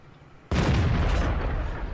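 A tank cannon fires in World of Tanks from the AMX CDC, one sudden loud boom that cuts in from a quiet hum and rolls on as a dense, sustained blast with no voices over it.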